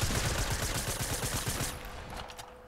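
Video game gunfire, a dense rapid stream of close shots that cuts off after a second and a half, leaving fainter scattered pops.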